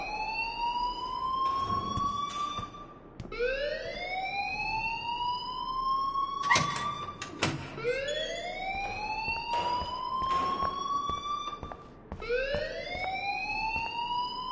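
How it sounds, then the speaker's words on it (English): A rising and falling siren-style alarm in a video game, wailing in repeated upward sweeps about every three seconds, loud and continuous with a few sharp clanks breaking in. "please turn off that alarm since that's your job"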